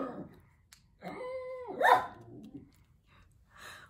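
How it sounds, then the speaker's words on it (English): A dog barks a few times at moderate distance, with sharp harmonic yelps and a drawn-out bark-whine near the middle, then quieter, with faint background noise between. "Dogs like to bark."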